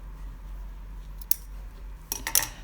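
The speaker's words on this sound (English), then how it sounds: "you trim your threads" Fabric scissors snip sewing threads in a quiet room: one short click, then a quick cluster of close, crisp snips near the end.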